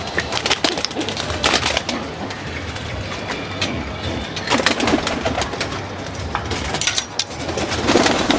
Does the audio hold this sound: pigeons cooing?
yes